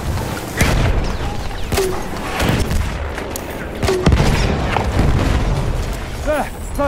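A grenade explodes during a Battlefield 1 Conquest match on the Amiens map, its boom landing amid dense surrounding gunfire and distant blasts while soldiers' voices shout.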